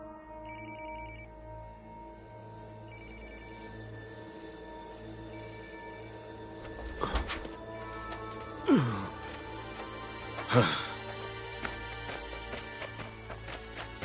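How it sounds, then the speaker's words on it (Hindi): A telephone rings in a tense movie scene, with short repeated bursts of ringing early on, then a low hum and a few sharp thumps and clatters. "डैड, क्या आप अभी अपना फोन उठा सकते हो?"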